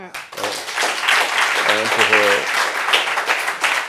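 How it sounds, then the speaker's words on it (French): A studio audience applauds a guest on a French talk show, a sustained wash of clapping heard under voices that speak through it. "C'est pour ça que je voudrais vous demander encore de l'applaudir."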